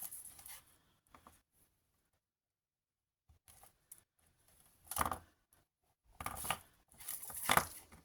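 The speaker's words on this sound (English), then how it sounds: "And then snip those ends of the wires off." Wire cutters snip the ends of aluminium wire, giving a few sharp, close clicks and crunches separated by quiet pauses, with a cluster of louder snips near the end.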